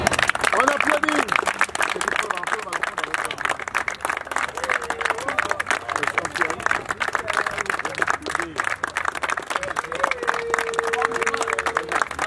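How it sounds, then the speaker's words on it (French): Crowd applauding at a closing ceremony for Gabon omnisport activities, dense sustained clapping mixed with cheering and people talking throughout. "On applaudit."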